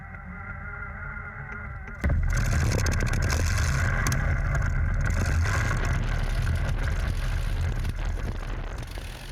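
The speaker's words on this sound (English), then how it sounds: "After being fitted with a functioning Griffin B-12 engine, the museum took it for a taxi run-up" Vintage Fairey Firefly aircraft with a Griffon engine starting a taxi run-up: quiet hum, then at about two seconds a loud, steady low engine roar kicks in and holds, easing slightly toward the end.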